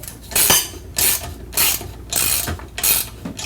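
Wrench tightening the clamp bolt on a Conbraco 4A-Series valve cover, a series of five or six sharp ratcheting clicks in regular bursts about half a second apart, close and clear with no talk.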